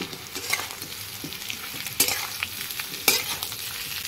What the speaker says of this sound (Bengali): তো আমার আলু আর পেঁয়াজগুলো সুন্দর লাল লাল করে ভেজে নিয়েছি, এবার আমি ইঁচড়গুলো দিয়ে দেবো